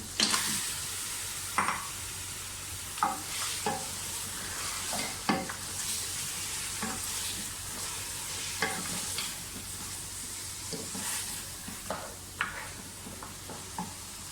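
Mutton sizzles steadily in a hot pan with fried garlic and ginger while a spoon scrapes and stirs it at irregular intervals, close up and fairly quiet.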